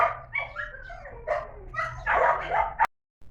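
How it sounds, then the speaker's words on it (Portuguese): Several dogs bark and yip close by inside a house, a steady run of overlapping barks and whines that stops abruptly near the end. "Eu tenho muito cachorro aqui, então, né, não reparem."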